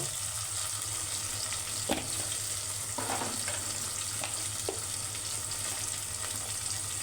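Ground spices such as turmeric, chili and coriander fry in oil and are stirred in a pan, giving a steady hiss with a low hum and occasional soft scraping taps.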